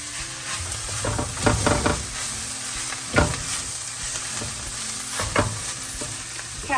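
Carrot, onion and chilli, pepper and turmeric powders frying in a pan are stirred with a spoon, giving a steady sizzle broken by several sharp scraping strokes at an uneven pace.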